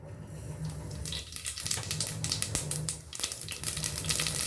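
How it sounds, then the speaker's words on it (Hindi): Mustard seeds hitting hot oil for sambar, crackling and popping in quick irregular bursts over a steady hiss, close and moderately loud. "अभी हमारा तेल गरम हो गया है। हम इसमें 1 चम्मच राई डालेंगे।"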